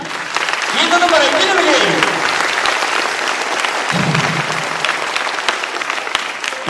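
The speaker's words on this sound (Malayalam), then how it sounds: "അവർക്ക് വേണ്ടിയിട്ട് ഒരു ഗംഭീര കൈ അടി" Audience at a news event breaks into sustained, loud applause that fills the whole stretch, with brief voices heard over the clapping.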